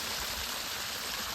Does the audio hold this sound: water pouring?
yes